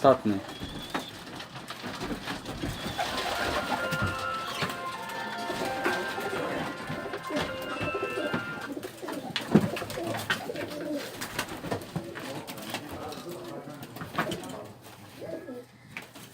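Tajik pigeons, a black-nosed breed and a high-flying "cosmos" breed with wild blood, coo and call in Dushanbe amid rustling and scattered background noise, with people talking nearby throughout.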